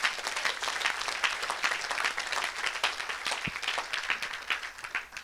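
A church audience at an evangelical preaching service applauding, a dense, even wash of clapping hands that holds steady and close for several seconds with no voices on top.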